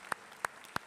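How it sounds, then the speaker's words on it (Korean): Three sharp, evenly spaced claps in a church service welcoming newcomers, crisp and fairly close against a quiet room, with no voices over them. "서로에게 잘 오셨다고 환영의 박수, 축복의 박수 하겠습니다."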